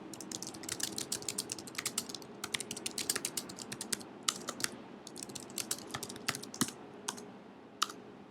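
Rapid keystrokes clatter on a computer keyboard, a close, crisp stream of irregular clicks in quick bursts with brief pauses, alone without talking.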